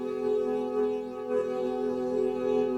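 Ambient modular synth tone from a Mannequins Just Friends module in audio mode: steady, sustained harmonic drones with slow, gentle swells in loudness, played alone with no voices.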